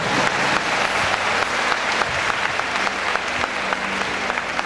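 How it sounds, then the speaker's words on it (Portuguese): A church congregation applauds Jesus with a full, continuous wash of many hands clapping, steady and fairly loud throughout, sharp individual claps poking out of the roar, with faint voices mixed underneath. "Tome seu assento, aplaudindo a Jesus porque ele é muito bom"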